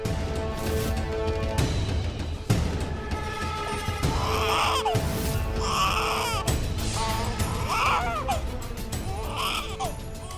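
An infant cries in bursts of rising and falling wails, loud and close, over a steady background of dramatic music and ambience from a Hindi television serial.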